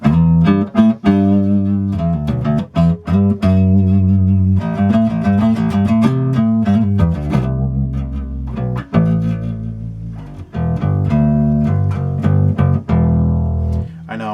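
A Squier Jaguar short-scale bass, P pickup full up and jazz pickup partly down, plays a steady run of pick-played notes with a warm, full low end, loud and continuous with no talking.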